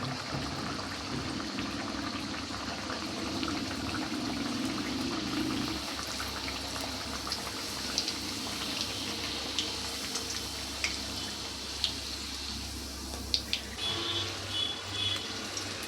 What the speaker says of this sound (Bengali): গরম হয়ে গেছে, এবার আমি ছেড়ে দেব তেলে।